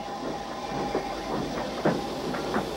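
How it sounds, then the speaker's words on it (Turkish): A cartoon steam train engine rumbles steadily into a station, with a continuous low hum and a few soft rhythmic clicks and puffs, no voices present. "James tüm vagonları platforma getirmişti ki homurdanan bir ses duydu."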